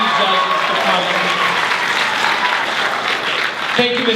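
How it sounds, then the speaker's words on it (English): Loud, dense applause from a crowd at a poetry recitation competition fills the whole stretch, sustained and close, with a voice briefly cutting in near the end. "you got to give our judges one more round of applause"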